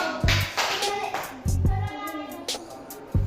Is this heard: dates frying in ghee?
no